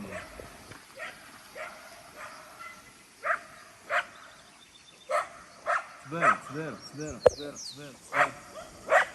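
Several dogs bark in repeated, sharp bursts close by, growing busier and more overlapping toward the end while people talk over them.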